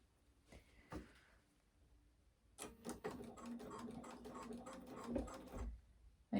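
A domestic sewing machine stitches stretch fabric, starting with a few soft clicks and then running in a steady, fast mechanical chatter for several seconds at moderate closeness, with a brief pause and a louder knock at the end.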